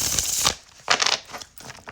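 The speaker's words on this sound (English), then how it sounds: "And one more shuffle." Oracle reading cards being shuffled by hand: a few quick, crisp riffling bursts of card stock separated by short pauses, close and fairly loud, with no voices.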